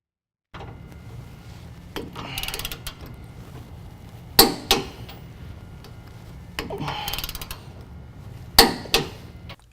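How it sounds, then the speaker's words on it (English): Ratchet wrench tightening rear crossmember bolts holding the differential support plate on a 2015-17 Ford F-150 4WD during a lift kit install, repeated clicking ratchet strokes in bursts with sharp metallic clacks, close and without talking. "now we're going to tighten down our rear crossmember bolts that hold on our differential"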